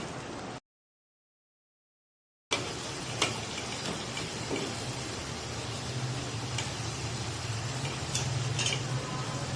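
Turnips and meat are stir-fried over a high flame in a pot with a steady sizzle and occasional scraping clicks of a spoon, after a short stretch of silence.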